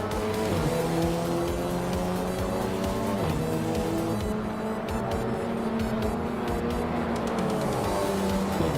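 TCR race cars circle Zandvoort in a racing video game, a dense, continuous layered engine drone from several cars with shifting pitch as they accelerate and ease off, loud and steady throughout.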